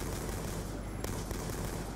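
Gunfire in Black Ops 2 Zombies, rapid continuous shots blurring into a dense rattle, fairly faint under game noise.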